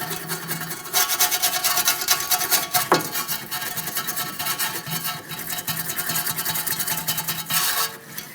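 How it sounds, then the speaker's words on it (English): A wire brush scrubs the corroded hub mating surface of a 2012-2015 Honda Civic rear wheel bearing assembly, steady rasping strokes in bursts with short pauses, close and fairly loud. "Use a wire brush if necessary."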